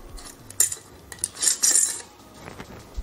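A metal canning jar lid is set into a metal pan during pressure canning of roasted turkey soup, making a few close metallic clinks and rattles, with a brief burst of clattering in the middle.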